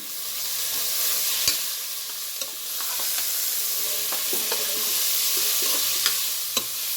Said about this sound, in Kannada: ಈಗೆಲ್ಲ ಮಿಕ್ಸ್ ಮಾಡ್ಕೊಳ್ಳೋಣ